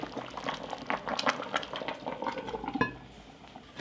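Meat simmering in a pot with no added water, giving a steady bubbling and popping across the whole stretch, close and moderately loud, with a sharper crackle near the end.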